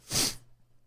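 One quick sneeze, a short breathy burst up close that fades fast into near silence.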